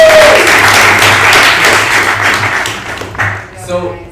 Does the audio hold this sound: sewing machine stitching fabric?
no